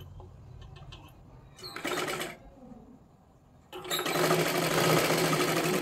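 A sewing machine double-stitching a silky katori blouse runs in two bursts: a short whirring run, a pause, then a longer, louder stretch of steady stitching with no talk.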